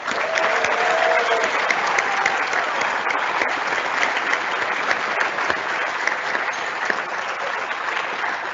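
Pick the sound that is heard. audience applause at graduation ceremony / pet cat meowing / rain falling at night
audience applause at graduation ceremony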